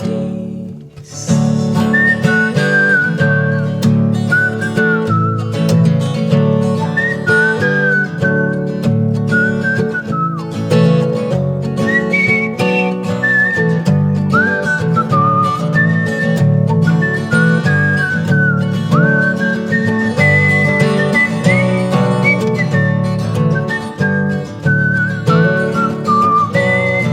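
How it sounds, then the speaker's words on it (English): Live whistle solo in an acoustic song, a bright sustained whistled melody riding over strummed guitar accompaniment, steady and loud throughout with no talking. "Does anybody know how hard a whistle solo is?"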